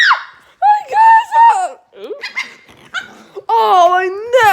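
A dog barks, yelps and growls in short excited bursts at close range, with voices talking between the outbursts.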